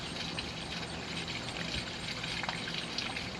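Gray water from an RV holding tank rushes out through the dump hose at a campground during the Iowa State Fair, a steady, fairly loud gushing flow that stays constant throughout with no talking.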